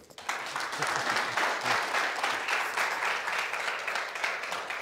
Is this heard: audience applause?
yes